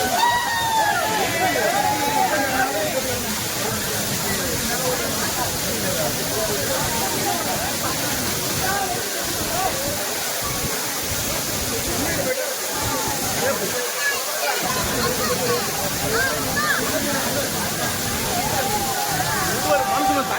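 Waterfall at a bathing site near a Shiva temple, a constant loud rushing roar of falling water that fills the whole span, with a few brief dips and people's voices mixed in.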